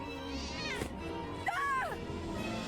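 A cat in the Vertigo video game meows twice, a short cry near the start and a longer rising-and-falling meow midway, heard over steady background music and ambience.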